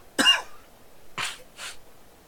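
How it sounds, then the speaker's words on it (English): A sharp, loud cough is followed about a second later by two softer coughs close together, with quiet breathing in between. "Oh, I'll go cough again."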